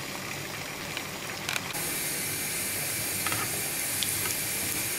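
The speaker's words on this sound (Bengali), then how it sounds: "এবার এভাবে ফুটন্ত তেলে আমরা সবগুলো পুঁই চাকলি এভাবে ছেড়ে দেব।" Pui chakli slices fry in boiling oil, giving a loud, continuous close-up hiss and bubbling roar that swells after a brief burst of spattering and then holds steady.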